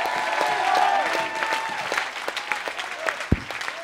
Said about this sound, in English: Can you clap for the Lord in this place?